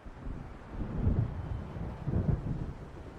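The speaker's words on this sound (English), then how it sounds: "It seems there's a storm coming." Deep rolling thunder from an approaching storm in the video game Alan Wake, two low swelling rumbles over wind and faint rain, heavy and continuous without speech.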